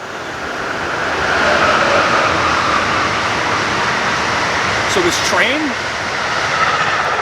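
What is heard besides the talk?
trains passing on main tracks near Boston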